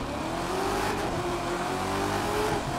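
Supercharged C8 Corvette in The Crew 2 revs hard under steady acceleration, a loud continuous engine drone with rising pitch and a faint supercharger whine, no talk over it.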